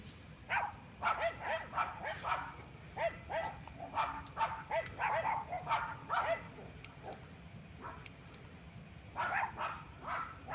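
Several dogs barking outdoors at night, scattered repeated barks at moderate distance over a steady chorus of crickets and insects, with no talking.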